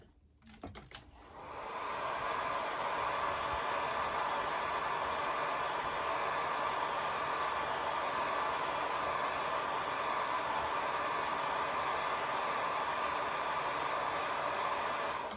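A hair dryer blows steadily to dry a watercolor painting of a pink rose, a loud, continuous airy roar that starts after a brief rustle and runs unbroken to the end.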